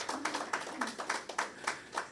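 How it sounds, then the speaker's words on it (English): Scattered clapping from a lecture audience at a memorial lecture, with a handful of irregular claps that are fairly faint and close together in a small room. "I think that deserves another round of applause."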